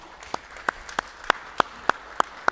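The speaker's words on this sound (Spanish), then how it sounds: "un aplauso para ellos" In a church, a few people clap slowly and sparsely, about eight distinct, evenly spaced claps at moderate distance with quiet room tone between them.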